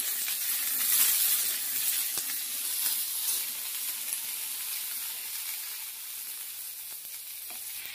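Potatoes for a plain, spice-free white potato curry sizzle steadily in a pan while being stirred, a close, continuous frying hiss with soft scraping and no voices.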